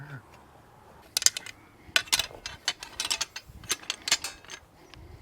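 A clamp ratcheting shut onto a square, a run of sharp metallic clicks and snaps in uneven bursts, close and fairly loud, with a low murmur in the background.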